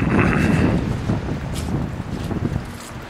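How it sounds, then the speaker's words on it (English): Wind gusts from a winter storm at night, a steady loud rush with broadband buffeting against the microphone that rises and falls over a few seconds, with no talking. "Wind and rain."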